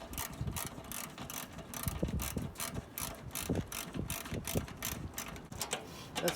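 A ratchet tightens a nut the whole way down, giving a steady run of close mechanical clicks from the pawl, with no talking.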